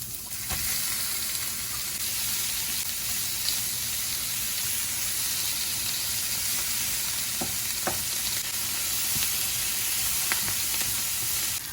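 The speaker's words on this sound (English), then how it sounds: "in this pan, I'm gonna fry up the mushrooms and the leeks" Canned mushrooms and leeks fry in leftover bacon grease in a pan, a steady close sizzle broken by a few sharp spatula clicks and stirs, with no talking.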